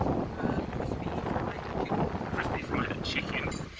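Strong wind blowing at a beach resort in Cha-am, Thailand, buffeting the microphone in continuous rumbling gusts, with a voice talking faintly underneath.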